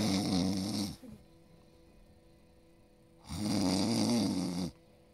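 A voice imitates a big beast snoring with two long, deep, rattling snores separated by a quiet pause, close and loud.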